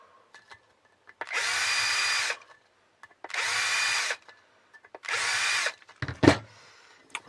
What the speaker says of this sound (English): But we'll just do it on reverse and take the burrs off.